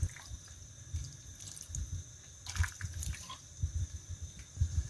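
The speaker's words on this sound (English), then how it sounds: "It's turn to add the water" Water poured into a pot of aubergine and chicken stew with unripe grapes and fried tomato paste, giving faint, uneven dripping and splashing over a low background hum.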